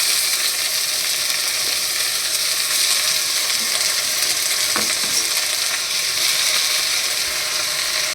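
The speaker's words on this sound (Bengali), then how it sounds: "এর মধ্যে এবার আমি এই পাট শাকগুলো দিয়ে দিচ্ছি।" Chopped jute leaves with crushed garlic sizzle and fry steadily in a pan, a dense, continuous crackle with occasional scraping stirs, close and loud throughout.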